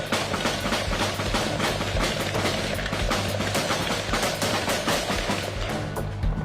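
Dense, continuous bursts of gunfire crackle and boom throughout, loud and chaotic, like rapid shots from several weapons at once, in an exchange between drug traffickers and military police in Brazil.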